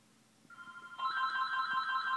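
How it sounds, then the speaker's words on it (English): A house telephone rings in the background during a King of Fighters XIII session, a steady electronic warble that starts softly and then grows fuller and sustained, heard alone without speech. "House phone ringing in the background."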